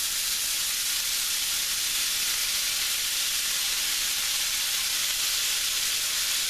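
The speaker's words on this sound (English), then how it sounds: "And I'm going to add the Worcestershire sauce." Worcestershire sauce sizzling hard in a hot pan, a loud, dense, steady hiss of frying that holds evenly from start to finish with no talk.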